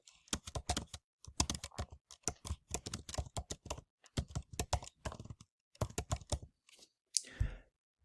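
Fingers type on a computer keyboard in quick, clicky bursts separated by short pauses, close and fairly quiet, with no voices.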